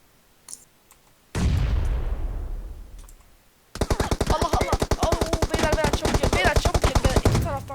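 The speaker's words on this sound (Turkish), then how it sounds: "Sıkıyor şu an." Rapid automatic gunfire from PUBG Mobile, a loud sustained burst of closely spaced shots following a single heavy blast that decays into rumble, heard up close with no talking.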